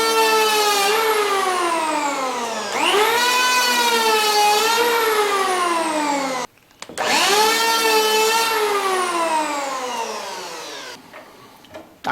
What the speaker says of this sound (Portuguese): Então eu vou apoiar a máquina e funciono e já começo a planar.